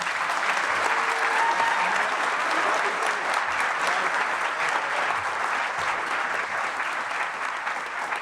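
A commencement audience applauds to welcome the speaker, steady dense clapping from a large crowd that holds at an even level for the whole stretch, with no voice over it.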